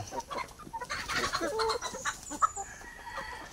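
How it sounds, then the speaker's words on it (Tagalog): A young native stag rooster, a gamecock bred on a farm, clucking and calling in short close bursts with a brief crowing note, amid faint farmyard background. "Yung pinaka-paborito ko na stag."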